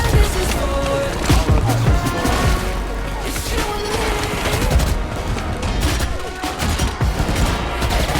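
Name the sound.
gunfire from Sage shooting in a video game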